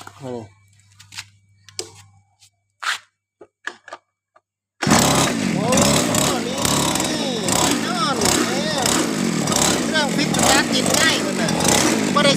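A grass trimmer's small two-stroke engine, under repair in a workshop, starts abruptly after a few quiet knocks and short voices, then runs loud and steady with a rhythmic pulsing idle that continues to the end.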